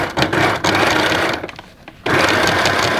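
A sewing machine runs a zigzag stitch along a fur seam, whirring loudly and close. It pauses briefly partway through and then starts again, with no talking.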